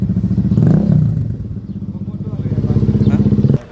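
A motorcycle with an aftermarket exhaust revs just after starting, a loud, close, throbbing engine note rising and falling with a pulsing, popping rhythm, then settling into a lumpy idle before cutting off.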